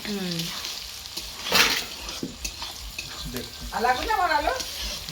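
Boiled chowmein, about 1.5 kilos, is stir-fried over a wood fire, making a continuous hiss and sizzle with tossing clatter while people talk nearby.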